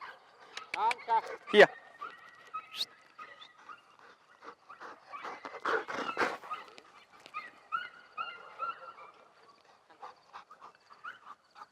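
Several dogs playing, each with its own toy, yipping, barking and whimpering in quick, close bursts that come and go across the clip.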